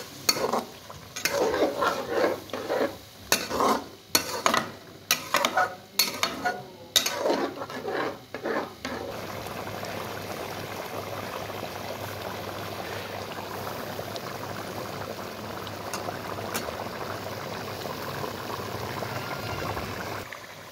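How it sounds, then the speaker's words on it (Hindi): Chicken and yogurt sautéing in a karahi, with clattering stirring strokes in the first half, then a steady, close sizzle that runs on its own to the end. "अब इसकी जो है ना हम अच्छे तरीके भुनाई करेंगे दही की और चिकन की"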